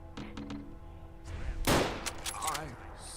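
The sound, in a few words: enemy shotgun fire in a video game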